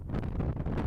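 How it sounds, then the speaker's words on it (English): Outdoor wind buffets the microphone in a short, dense, rumbling gust that fills the whole moment. "it's a bit windy out here"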